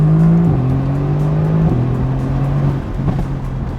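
A 2018 Mercedes-AMG GT C accelerates hard from inside the cabin, its engine drone climbing in pitch and dropping sharply at each of several gear shifts, loud and steady.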